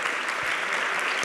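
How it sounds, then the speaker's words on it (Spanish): Audience applause at a university student forum and award ceremony, a brief, dense and steady patter of many hands with no voices over it. "Un aplauso para todos."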